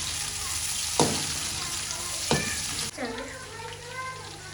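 Steady broadband sizzle of green chilies frying in hot oil with browned onions, with two sharp stirring clatters and a brief bubbly gurgle near the end.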